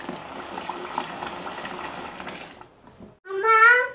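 Tap water runs steadily into a sink during washing for a couple of seconds, then stops; a voice briefly speaks near the end.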